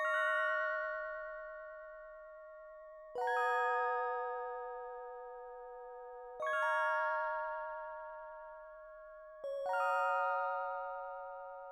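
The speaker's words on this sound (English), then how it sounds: "Next up I added this type bell key sort of type of sound from Analog Labs" Bell-like synth key patch from Analog Lab, pitched up an octave, playing four sustained chords roughly three seconds apart, each struck sharply and ringing out with bright overtones, alone and clear.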